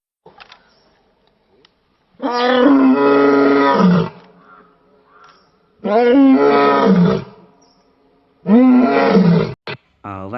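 A lion roars near a rural road in the Sarkhadi area, with three long, loud, rumbling roars separated by short pauses and faint background sound.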